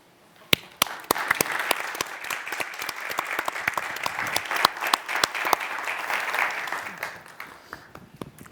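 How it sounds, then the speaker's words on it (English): An audience applauds panelists at the close of a 2023 IDB Group Knowledge Week financing panel session. Steady, dense clapping starts abruptly, holds evenly for about seven seconds with a few sharp individual claps, then thins out toward the end. "a big applause to them, please."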